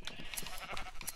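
Minecraft sheep bleating in a survival game, several short bleats overlapping in a quick, busy cluster close by, with no voice over them.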